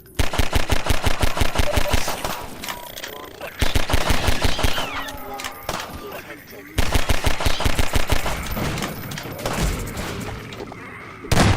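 Gunfire in Half-Life 2: Episode 2 comes in rapid automatic bursts, loud and close, separated by brief pauses with lower in-game noise between them.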